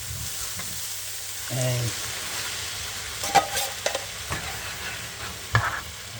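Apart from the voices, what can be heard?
garlic cloves frying in a pan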